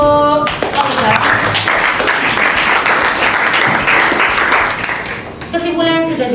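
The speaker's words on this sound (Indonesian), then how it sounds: "kasih aplaus dulu untuk Fauzan" An audience applauds a participant named Fauzan at a teacher performance exam session, a steady wash of clapping lasting several seconds, with speech briefly at the start and end.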